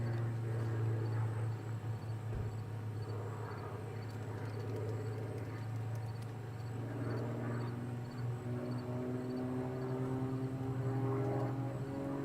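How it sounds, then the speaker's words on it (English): An MXS single-seat unlimited aerobatic aircraft drones steadily overhead, its propeller engine holding a continuous tone that shifts in pitch as it maneuvers at a distance, with no talking. "flying the MXS, single seat version of the MX2"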